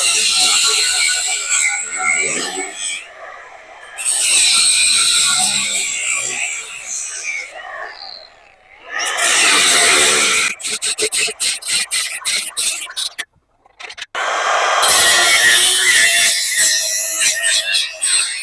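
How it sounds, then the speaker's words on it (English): Cutoff wheel slicing through a metal Harbor Freight toolbox in bursts of harsh, loud grinding and rasping, broken by pauses, up close and without talk. "I'm going to go ahead and cut this the rest of the way with my cutoff wheel."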